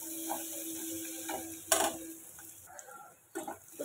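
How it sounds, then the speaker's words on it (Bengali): Metal utensil scrapes and clinks against a pan with a faint sizzle underneath, a few sharper scraping strokes standing out. "এটাকে ভালো করে নাড়াচাড়া করে ভাজা করে নেবো পেঁয়াজটা"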